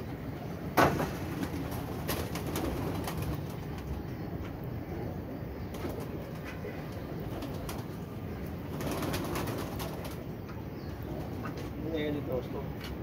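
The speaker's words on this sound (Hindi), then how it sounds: "ये माशाल्लाह जी दोस्तों कबूतर है" Pigeons on a rooftop loft on a hot day, with soft cooing and fluttering under a steady background hum, the birds nearby and moderately loud, and a voice talking at times.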